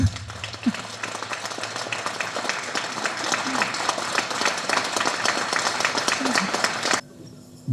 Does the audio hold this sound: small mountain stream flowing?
no